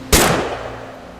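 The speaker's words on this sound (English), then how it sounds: "Great shot, Dawn!" A single loud gunshot in the video game What Remains of Edith Finch, a sharp close bang followed by a short decaying echo over a faint background hum.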